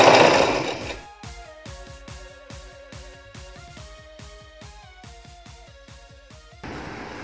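Sewing machine stitching a cloth diaper, a fast steady run of mechanical clatter after a short noisy start, close and alone.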